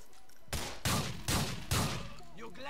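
Four loud gunshots in Grand Theft Auto IV fire in quick succession, evenly spaced, each with a short echoing tail, followed by a brief voice.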